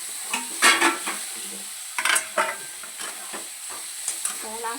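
Crushed ridge gourd chutney ingredients with coriander being stirred in a frying pan, giving soft sizzling under a string of scraping and clinking spoon strokes against the metal, close and fairly steady, with no talk.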